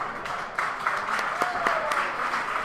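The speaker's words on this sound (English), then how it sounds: "This crowd is appreciative of the pace these two are cutting." Crowd at an independent wrestling show applauding an arm drag by Christian Rose against Jeremy Wyatt, a steady spread of clapping with a commentator talking over it.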